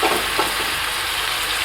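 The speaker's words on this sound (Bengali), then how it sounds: "এই কষানোর সময় ভেজে রাখা এই উচ্ছেগুলোকে এবার আমি দিয়ে দেব।" Fried bitter gourd goes into a pan of spices for a Bengali shukto and is stirred, giving a loud, continuous sizzle with scraping stirs throughout.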